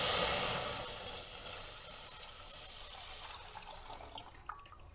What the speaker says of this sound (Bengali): আমি দিয়ে দিচ্ছি দুধ।